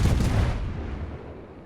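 Heavy naval gunfire from the Scharnhorst battleship in a naval combat video game: a loud, deep boom opens the clip and rolls off into a fading low rumble over under two seconds, with no voices.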